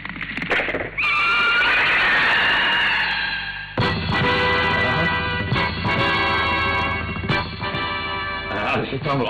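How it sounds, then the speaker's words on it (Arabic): A white horse neighs loudly in a long whinny, then snorts and whinnies again over dramatic background music and effects. "الحصان الأبيض، يا إلهي كيف وصل إلى هنا؟"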